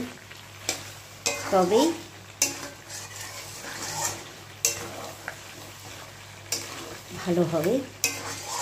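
Mutton being stirred as it fries down in a pan, with repeated scraping strokes of a spoon and a steady sizzle beneath, and a person speaking briefly over the cooking.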